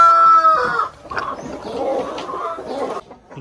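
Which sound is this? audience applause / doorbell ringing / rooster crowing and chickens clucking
rooster crowing and chickens clucking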